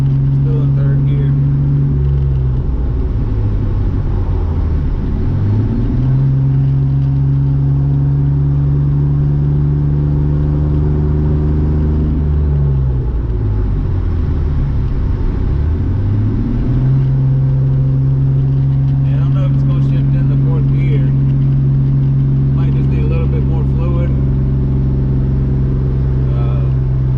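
A car with a slipping automatic transmission accelerates and shifts gears, the engine drone climbing steadily then dropping twice as it changes from second to third, a continuous close rumble throughout.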